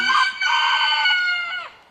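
On a farm with about 120 chickens plus quail and turkeys, a rooster crows loudly and close by in one long, drawn-out call, with a brief cluck at the start.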